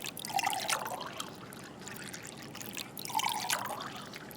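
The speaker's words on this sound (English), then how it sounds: "She places the mugs down on the table and pours 3 coffees." Black coffee poured from a pot into three mugs on a table, heard as two soft trickling pours a few seconds apart, close and fairly quiet with no voices.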